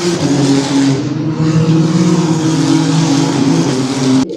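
Race cars on the track at Spa during a youth racing event, a loud continuous engine roar that rises and falls as they pass, ending abruptly after about four seconds, with no voices.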